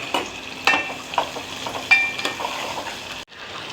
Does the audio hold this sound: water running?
no